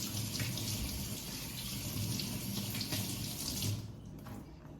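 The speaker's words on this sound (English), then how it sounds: "Just gonna wash the corn." Kitchen tap running steadily into a sink while corn is rinsed under it, a close, full rush of water that stops abruptly near the end.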